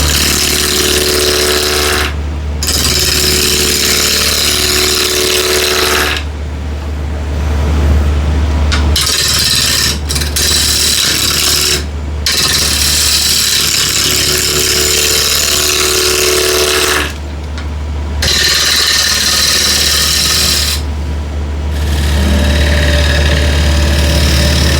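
Wood lathe spinning at 1100 RPM as a 16 mm ball gouge cuts a bowl, a steady loud hum with scraping cuts that come and go in passes, nearby and continuous.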